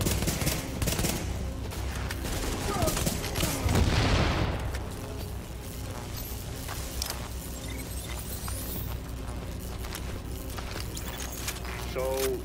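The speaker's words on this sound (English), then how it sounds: "That shooting, that was you" Gunfire bursts and shooting in The Division, a third-person shooter set in Manhattan, rattling through dense game action with a heavier swell around four seconds, mixed with voices and ambient combat noise throughout.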